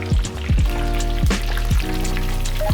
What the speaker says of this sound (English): this is expert level deep frying